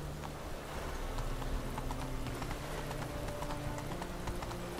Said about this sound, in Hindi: शायद तेज चलता है घोड़ा